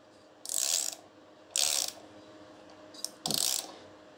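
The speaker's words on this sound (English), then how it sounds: "So I'm turning clockwise to remove the screw." A socket wrench ratchets on the reverse-threaded impeller screw of a Pentair Challenger pool pump motor, three distinct bursts of rapid clicking separated by short pauses, close and crisp against a quiet background.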